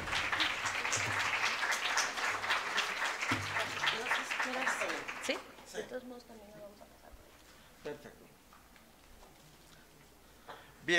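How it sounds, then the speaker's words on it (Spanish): Conference audience applauds a speaker being introduced, dense steady clapping for about five seconds before it thins to scattered claps and quiet room noise. "Por favor, un aplauso al doctor José Miguel Torres."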